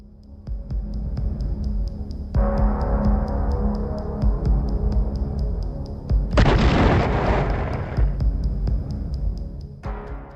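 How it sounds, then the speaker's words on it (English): Ammunition supply trucks hit by FPV drones blow up in a series of deep booming detonations, a heavy throbbing rumble with one louder burst midway, echoing across open ground. "Explosions echoed across the landscape for several minutes, each detonation marking the destruction of another vital supply truck"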